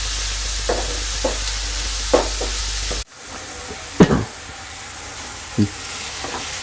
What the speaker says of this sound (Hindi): जिसे हम चलाते रहेंगे, थोड़ा फ्राई कर देंगे।